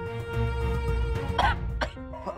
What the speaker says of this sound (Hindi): खांस खांस के उनका चेहरा लाल हो गया है